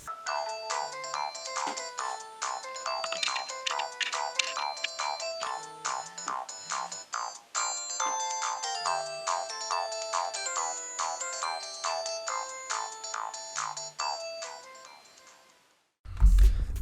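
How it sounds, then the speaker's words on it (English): An LG 800G mobile phone plays its Tetris game sound set, a bright, fast electronic melody of beeping tones running continuously and loudly from the small speaker, ending in a brief rustle. "this phone has like the best Tetris sound set I think I've ever heard"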